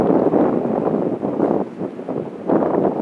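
Chilly wind blowing across a steep slope in the Sierra Nevada mountains of Inyo National Forest, heard as loud rushing gusts buffeting the microphone, rising and easing in waves with no voices.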